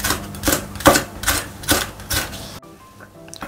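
Quick, crisp knife taps on a cutting board as chili peppers are finely julienned, several rapid chops in a row, then it falls quiet.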